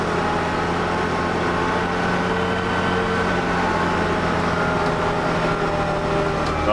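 A JCB Fastrac tractor engine runs steadily with a dense low drone and a constant mechanical hum, loud and unbroken throughout without any voices.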